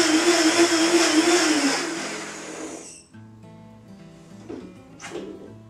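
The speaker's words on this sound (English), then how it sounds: "So we're just going to continue blending." A blender whirs loudly while blending raw nacho sauce with miso, a dense steady roar for about three seconds that then cuts off, leaving quiet low rattles and a brief faint whine.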